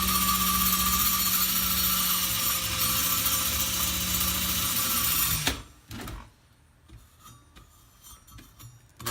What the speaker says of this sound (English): I'm just going to run the drill